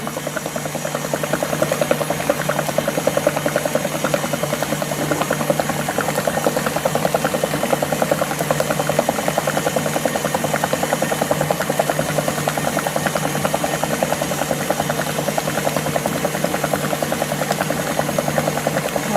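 An electric mixer runs nonstop at speed, beating ube cheesecake batter, a close, steady buzzing hum with a fine rapid pulse and no talking.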